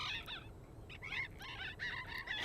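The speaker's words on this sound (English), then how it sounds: "The telegraph wires are weighed down with row upon row of parrots." Patagonian parrots calling in a flock at a cliffside breeding site at sunset, harsh repeated squawks and chatter layered over a steady background hum, moderately distant and continuous.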